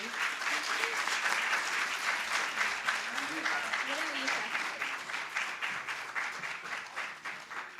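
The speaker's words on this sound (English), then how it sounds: "A big round of applause for Mr. Wael." Sustained audience applause for a poet at a poetry festival, a dense steady wash of many hands clapping that holds loud throughout before tapering slightly, with faint voices mixed underneath.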